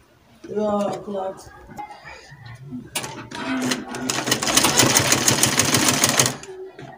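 A domestic sewing machine stitches a dress seam, its rapid even motor clatter building to a steady loud run for a few seconds after a person speaks briefly, then stopping.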